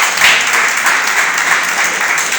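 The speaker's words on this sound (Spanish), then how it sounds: "Denle un aplauso al Señor" A Spanish-speaking church congregation applauds during a worship service, loud and close, a short, continuous burst of many hands clapping with no voices over it.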